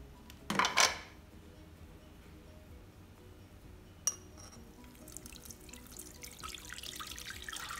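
Green water for a moss pudding is strained and rinsed in the kitchen. A brief splashing pour comes first, then a sharp clink, followed by steady trickling and dripping that grows busier toward the end.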